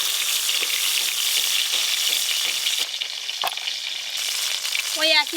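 Small brinjals fry lightly in oil with a loud, dense, close sizzle that dips briefly midway, then swells again, ending in a short squeaky utensil scrape.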